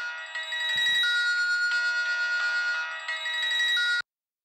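A mobile phone ringtone plays loud and close as a bright, repeating electronic melody for about four seconds, then cuts off abruptly.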